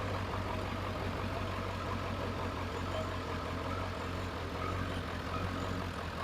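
A 7.3L Power Stroke diesel pickup engine idles just after a hard start, a low, steady, even rumble that holds at a constant level throughout.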